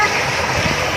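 Boiled bitter gourd water strained through a filter, giving a brief, loud, continuous pouring and splashing rush.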